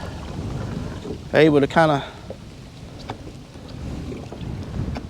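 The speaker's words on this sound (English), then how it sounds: "It's real windy out here today," Strong wind buffets the microphone in a steady rumbling roar while kayaking on open water, with a brief spoken word rising over it.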